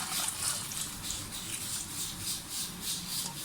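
About two liters of water pouring into a cooking pot in a kitchen, a steady close trickle and splash that runs without a break and with no talking over it.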